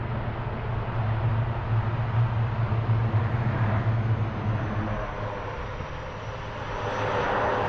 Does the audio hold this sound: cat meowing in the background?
no